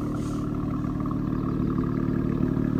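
An Audi B9 RS5 fitted with an AWE Tuning Touring Edition exhaust idles steadily after a cold start, a deep, even, close rumble that holds at a constant level throughout with no talking.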